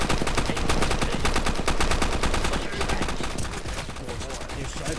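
Rapid, continuous machine-gun fire from a Roblox Call of Duty: Modern Warfare II shooter rattles loud and close for the whole stretch, easing slightly toward the end while shots keep coming.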